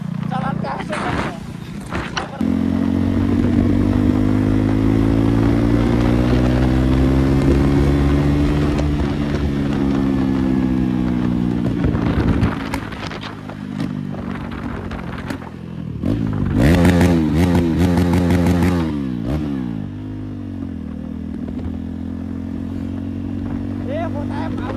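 KTM Duke 390 motorcycle running with no exhaust fitted, a loud raw engine drone that holds steady, surges through revs with crackling bursts and dips near the end, while someone talks over it.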